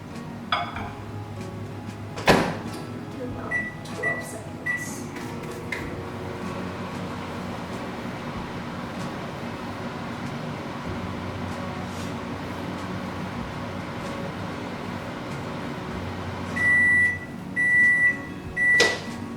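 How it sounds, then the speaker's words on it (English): A microwave oven warms about half a cup of milk in a home kitchen, giving a steady hum with a few clinks and bumps early on and a run of short beeps near the end. "You can do it in the microwave for about 10-15 seconds."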